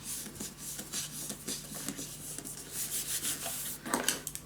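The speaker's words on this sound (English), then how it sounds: "and there you go, burnish it down" Paper is burnished down by hand onto glued chipboard for a mini album, giving a soft, steady rubbing and scraping with short strokes, close and fairly quiet throughout.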